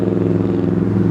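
A vintage Snapper rear-engine rider mower, temperamental to start and with a slightly leaking carburetor, runs with a close, steady rumbling idle and a faint mechanical clatter, heard alone.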